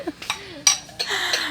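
Plates clink as they are picked up from a shop display: a few sharp, close ceramic knocks and chinks come in uneven bursts, with a soft murmur of voices underneath.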